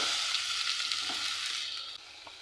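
Steady sizzling of chopped tomatoes frying in a hot pan, constant and fairly soft, with a faint clink near the end.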